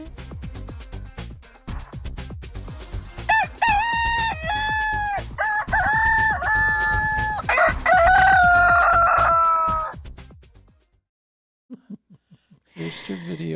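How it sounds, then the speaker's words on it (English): Rooster crowing played back from a video, several loud drawn-out crows over a rhythmic backing beat, then a pause before sound resumes at the end. "I think we need to play the rooster video"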